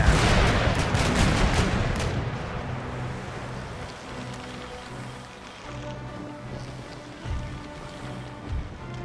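A ship's cannon broadside fires in the video game Empire: Total War, a loud burst of overlapping booms at the start that rumbles and fades into a low, quieter wash.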